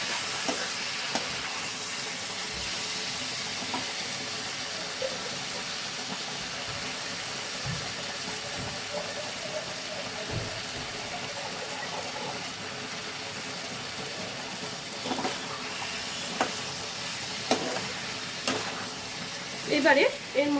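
Papad curry mixture in a pan sizzles and hisses steadily while being stirred, with occasional soft scrapes and clinks of the spoon against the pan, and faint speech now and then.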